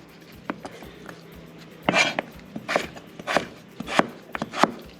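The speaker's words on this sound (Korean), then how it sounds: "어쨌든 양념에 들어가서 볶을 거기 때문에 너무 두껍게 자르지 마시고" Knife chopping sweet potato (hobak goguma variety) into thin, chopstick-thick strips on a cutting board for dakgalbi, heard as a series of crisp, close knife strikes in an irregular rhythm with no talking.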